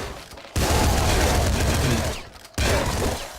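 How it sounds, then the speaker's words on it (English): Auto shotgun blasts from the Nuclear Throne video game: two loud, dense bursts of rapid gunfire, the first running about two seconds before a brief gap, the second starting sharply and continuing to the end. "this is the auto shotgun, if you guys couldn't tell"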